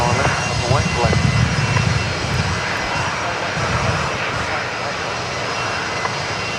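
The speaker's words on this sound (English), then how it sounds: "Velocity 1265, runway 19 right, clear for takeoff" A Velocity airliner takes off from runway 19 right at Brisbane Airport. Its engines give a loud, sustained roar that stays steady throughout, while radio voices talk over it.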